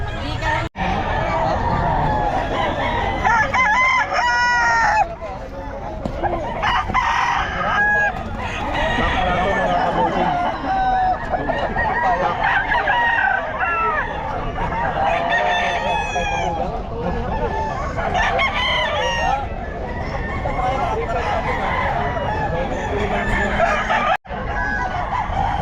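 Roosters crowing repeatedly in a busy pet market, several calls overlapping and close by amid clucking fowl and a constant murmur of crowd chatter and voices.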